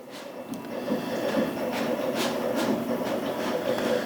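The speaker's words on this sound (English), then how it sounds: "So I'm going to watch the machine, see how it's cutting" A cutting machine slicing decal material in a print shop, a steady mechanical whir with faint rhythmic ticks from the moving cutter, moderately close and without talk.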